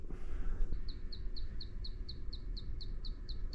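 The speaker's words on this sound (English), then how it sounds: "there's also this chirping noise, a couple chirps every second" A faulty wine cooler gives off repeated short, high electronic chirps, about three per second in a steady even rhythm, sounding over a low background hum with no voices.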